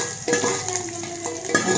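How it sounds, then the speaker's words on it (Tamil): Curry leaves crackle in hot oil in a pan for a vallarai keerai kuzhambu, a brief close sizzle with a couple of sharper spits and a light utensil scrape. "அடுத்து கருவேப்பிலை போட்டாச்சு."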